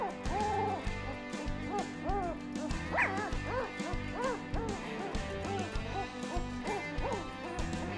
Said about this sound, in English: Let's see if she barks again.